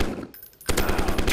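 Rapid automatic gunfire in a 3D first-person shooter game, loud and close, with a brief lull and then a dense burst of rhythmic shots.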